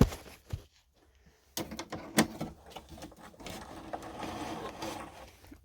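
A Pfaff Creative Ambition 640 sewing machine starts after a brief near-silence, with a few knocks and clatters and then a steady, fairly quiet mechanical whir and rattle as it runs, heard close with no talking.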